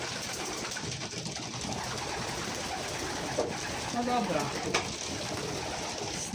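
Soft cooing of pigeons, including young birds being fed, in a noisy outdoor setting, with a voice speaking briefly over it.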